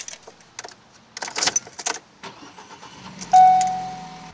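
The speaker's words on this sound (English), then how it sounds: "I just start the car and off I go" A rental car's ignition: a few light clicks and key jangles, then the engine cranks and catches with a sudden loud surge that settles into a steady idle, heard close from inside.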